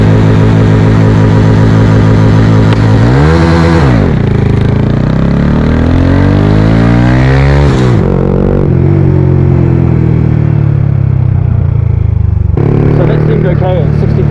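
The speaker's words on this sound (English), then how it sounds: "add our revs, and then go wide open and drop the clutch and see what happens" A Honda Wave 125i underbone motorcycle, bored to 143cc, revs hard in first gear and then launches wide open with a dropped clutch. The engine note climbs loud and close, dips under load, then keeps pulling through a long rising sweep before the throttle backs off.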